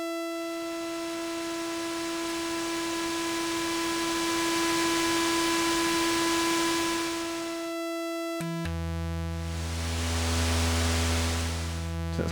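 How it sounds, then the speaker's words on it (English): A buzzy tone from Endorphin.es synthesizer modules with a layer of hissing white noise, shifting to a lower, richer pitch partway through. "we can also mix in white noise"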